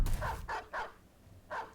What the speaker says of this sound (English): Oh, enemy war dog's already out on the field.